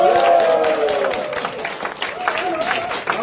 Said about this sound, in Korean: 오늘 감사의 큰 박수 한번 부탁드립니다.